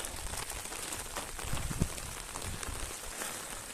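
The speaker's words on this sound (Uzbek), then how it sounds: "yomg'ir zo'r yog'yapti" Rain falling outdoors as a steady, dense hiss of drops on surfaces, soft and even throughout with no voices.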